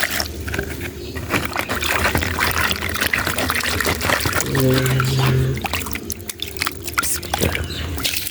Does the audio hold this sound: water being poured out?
yes